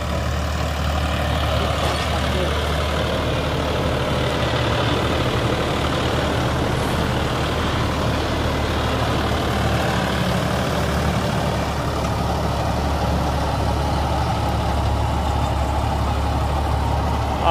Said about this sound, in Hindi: आराम से चल रहा है ट्रैक्टर ये